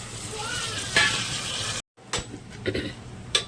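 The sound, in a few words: onions and tomatoes sautéing in oil for biryani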